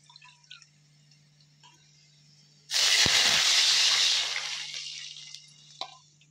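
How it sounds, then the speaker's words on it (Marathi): Water poured into a pan of poha makes a loud hissing splash for about a second and a half, then fades to a quiet simmer beneath a steady hum. "तेच मेजर आपल्याला 2 कप पाणी टाकायचं आहे"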